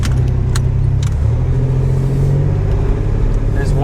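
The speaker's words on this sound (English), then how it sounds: "Let's drive over one of those humps one more time." A 1993 GMC Sierra OBS pickup on Aldan American coilovers rolling over a speed hump, heard from inside as a steady loud engine and road rumble with a few faint rattles and clunks.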